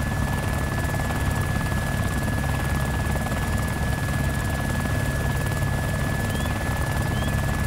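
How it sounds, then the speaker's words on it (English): Steady helicopter rotor thrum with a constant engine whine, loud and continuous throughout, no voices. "that sure sounds like our helicopter"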